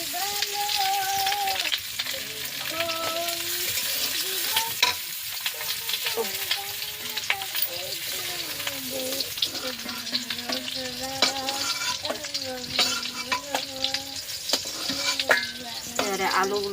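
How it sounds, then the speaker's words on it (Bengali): Potatoes fry in a wok with a loud, continuous close-up sizzle and intermittent stirring scrapes, and a tonal background runs underneath. "এবারে আলুগুলো ভাজবো।"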